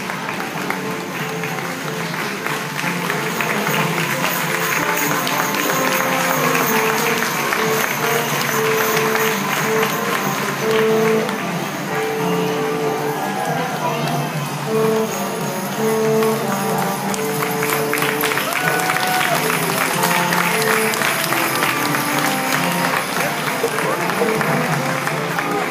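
A large crowd cheers and applauds steadily for the whole stretch, loud and continuous, with voices and a tonal background mixed into the roar, at a Clydesdale horse hitch show at the Wisconsin State Fair.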